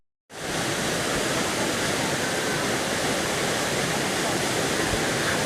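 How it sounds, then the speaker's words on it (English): Randha Waterfall near Akole, Ahmednagar, pours with a dense, steady rushing roar that starts abruptly after a brief silence and holds evenly throughout. "Finally we have reached our destination, that is Randha Waterfall"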